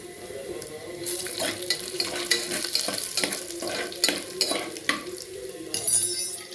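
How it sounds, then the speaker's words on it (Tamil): Mustard seeds splutter and chana dal with dried red chillies fries in hot oil for a Tamil tempering. The crackle and sizzle run steadily and close throughout, broken by sharper pops and clinks of a spoon against the pan. "கடுகு பொரியிறது. இப்போ கடலைப்பருப்பு, காஞ்ச மிளகா போடுறேன்."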